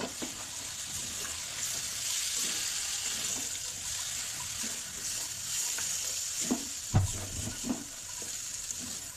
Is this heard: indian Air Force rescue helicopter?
no